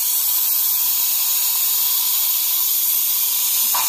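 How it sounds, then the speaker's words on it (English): Steam from an Instant Pot pressure release vents through a PVC pipe elbow in a steady, loud broadband hiss, with a small bump near the end. "what I do to let the steam out is I went and got myself one of these just PVC pipe bender elbow things"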